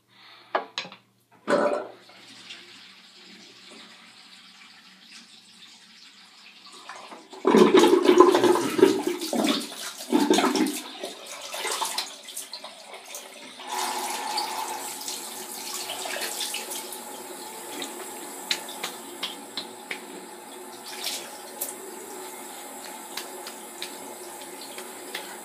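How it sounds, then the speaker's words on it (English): Cold water runs from a tap during a rinse after shaving, a steady hiss of flow with splashes and knocks from hands and basin, loud and close, with no one talking. "I just rinse off with cold water now."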